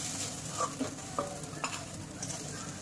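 Fried leafy greens (note shaak) are stirred and scraped in a sizzling pan, with soft frying hiss under a few light spatula scrapes and clinks, close and steady, no speech.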